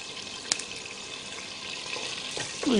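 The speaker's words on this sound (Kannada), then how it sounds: "ಈಗ ಹಿಂಗಂದು ತಿರುಗಿಸ್ಕೊಡ್ತಾ ಇದ್ರೆ ಚಟಾಪಟ ಅಂತ ಸೌಂಡ್ ಬರುತ್ತೆ" Guntur chillies splutter in hot oil for a drumstick sambar tempering, a steady close sizzle with a sharp single pop early on and stirring toward the end.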